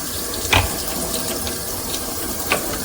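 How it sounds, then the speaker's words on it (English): Running tap water splashes steadily as a goat milking machine part is washed in warm soapy water at a sink, with a couple of brief louder knocks against the basin. "what I normally do is clean this with warm, soapy water, just like I did the container"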